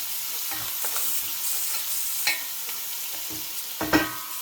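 Chicken pieces frying in a pan for Tuscan chicken, a continuous close sizzle punctuated by several sharp scrapes and stirring knocks from a utensil.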